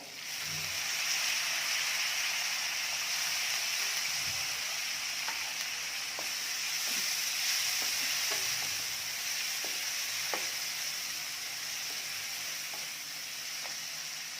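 Chana dal fries with turmeric in a pan, a steady bright sizzling hiss with scattered light clicks and stirring taps, close and without talk.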